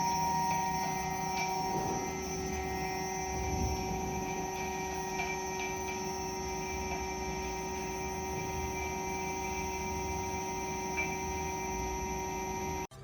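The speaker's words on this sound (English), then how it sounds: "Currently running at 800 RPM." Torque motor on a test stand spinning at 800 RPM, giving off a steady electrical hum with a constant tonal whine that holds unchanged throughout, close and alone with no voices.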